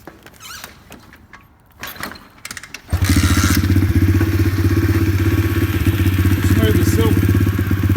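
A pit bike kicks over with clunks and thuds, then its small engine catches and settles into a loud, steady, buzzing idle close by. A voice talks over the start.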